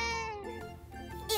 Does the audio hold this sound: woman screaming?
no